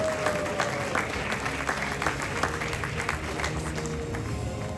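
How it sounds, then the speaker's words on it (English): A crowd at an award ceremony applauds in a dense, steady wash of clapping, moderately loud, with faint voices mixed in. "Let's give a big round of applause for all of our awardees"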